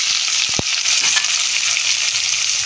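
Mustard seeds spluttering and popping in hot oil while tempering for a fenugreek-leaf and potato curry, a loud continuous sizzle with a few sharp crackles early on.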